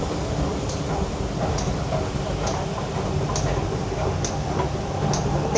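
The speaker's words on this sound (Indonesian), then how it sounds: "Ya, keretanya baru berangkat guys." A Hong Kong metro train pulls away from a station platform with a steady rumble and regular clicking rail beats, heard close in a noisy station.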